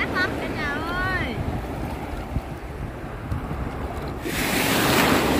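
Ocean surf rolls in on a long, wide sandy beach at Le Touquet-Paris-Plage in sunny weather. There is a steady loud wash with heavy wind buffeting, a brief squeal near the start, and a surge of breaking water toward the end.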